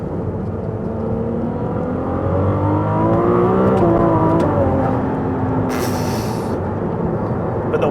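A Ferrari 296 GTB in race mode with a manual gearbox pulls hard on a country road, its engine note rising and shifting steadily, loud and close from inside the car.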